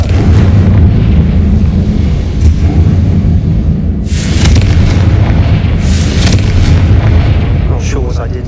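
Bombarda explosion spell in Hogwarts Legacy: two loud, sharp blasts land a couple of seconds apart over constant rumbling combat noise, followed by a few smaller crackling bursts.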